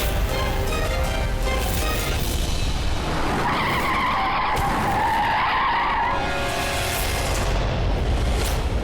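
A car skids hard to a stop on a wide main road, a loud, sustained tire squeal rising over rumbling engine noise for several seconds, with no voices.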